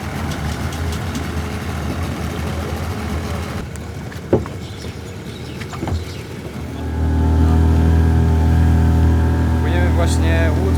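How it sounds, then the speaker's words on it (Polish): A tourist boat on a short crossing near Wadi Shab in Oman runs its engine, a rumble that swells louder and steadier partway through, with a few knocks and sharp sounds along the way. "Płyniemy właśnie łódką kawałek"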